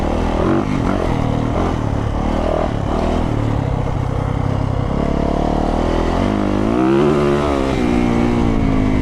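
A Yamaha YZ450 or Honda CRF dirt bike is ridden over bumps, its engine revving hard and loud close by, rising and falling continuously over rattling clatter.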